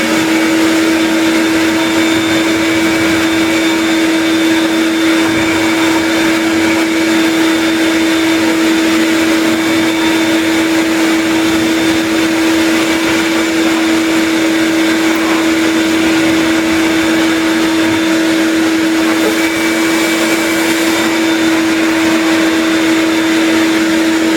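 A shop vacuum drones steadily throughout in a lumber yard shop, with a strong, constant whine and roar, loud and close, with no talking.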